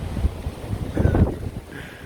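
Strong wind buffeting a microphone outdoors while cycling, gusty low rumbles and irregular thumps rising and falling over a couple of seconds, close and fairly loud.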